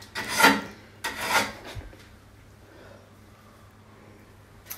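A wooden wardrobe shelf that has been patched with filler is sanded by hand in two close, raspy strokes about a second apart. Faint rubbing follows at a low level.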